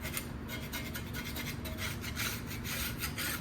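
Steady hand rubbing and rasping across a cylinder head surface on a 5.9 Cummins engine, a continuous close scraping with faint rhythmic strokes, quiet and alone with no talk.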